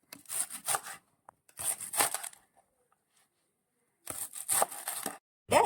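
Spring onion stalks being chopped with a knife on a board, quick bursts of crisp slicing strokes separated by short pauses, close and alone.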